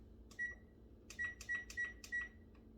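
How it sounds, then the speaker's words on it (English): Oven control panel beeping while being set to preheat: one short beep, a pause, then four quick electronic beeps in a row, clear and close against a low background hum. "I need to preheat the oven"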